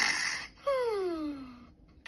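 A snore in a read-aloud Goldilocks and the Three Bears bedtime story, a single drawn-out, wheezy snoring tone that slides downward, close and fairly clear against quiet background.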